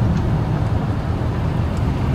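Cars gathered at the Daikoku parking area in Japan, with rare JDM models among them, give a steady low rumble of idling engines and traffic noise, continuous and moderately loud, with no talking.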